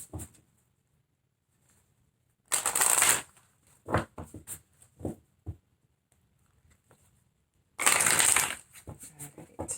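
Oracle cards from a Universe Has Your Back deck are shuffled in two loud bursts of riffling, with scattered taps and card snaps between them in an otherwise quiet room.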